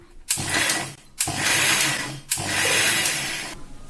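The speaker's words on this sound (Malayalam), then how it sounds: "ഇത് നമുക്ക് അടച്ചു വെച്ചിട്ട് ഒന്ന് അടിച്ചു കൊടുക്കാം" A mixer grinder blends roasted coconut chutney in three loud whirring bursts of about a second each, separated by short pauses, close and harsh.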